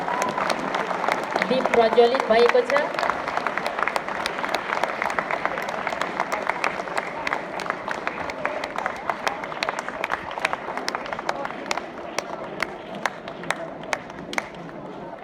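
An audience claps steadily through a lamp-lighting ceremony opening a community awareness programme, a dense even patter of many hands held at a constant level, while a voice speaks briefly over it near the start.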